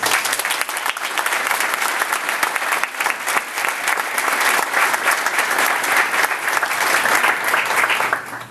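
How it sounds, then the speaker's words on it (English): A crowd applauds the honor graduates at a military graduation ceremony, dense steady clapping filling the whole stretch at full strength with no voices. "Please join me in a round of applause for the honor graduates."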